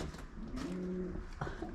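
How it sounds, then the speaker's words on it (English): Pigeons at Raglan Castle in Wales, a soft low cooing phrase repeated a few times against a quiet outdoor background. "And some pigeons."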